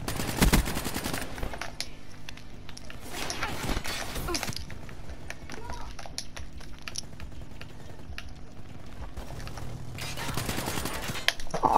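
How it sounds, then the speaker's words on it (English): Rapid gunfire from Call of Duty Black Ops 3, sounding as dense bursts and repeated shots over a busy, continuous game soundscape, with louder flurries near the start and end. "I missed every single shot."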